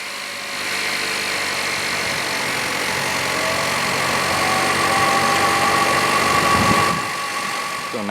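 A 2016 Buick Envision with a 2-liter turbocharged four-cylinder engine idles steadily, a smooth even hum held at constant level for about eight seconds with a slight rise near the end.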